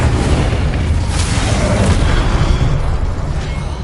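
Incendio fire spell cast in Hogwarts Legacy on PS5: a loud, sustained roaring whoosh of flame with a booming, explosive body that fades slightly toward the end.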